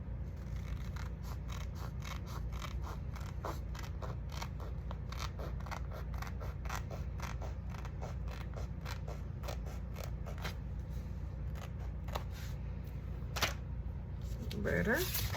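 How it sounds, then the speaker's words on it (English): Scissors trimming paper for an altered mini calendar craft, a long run of quick, close snips in a steady rhythm over a constant background hum, with a voice speaking briefly near the end. "I think that one need to be trimmed a little bit"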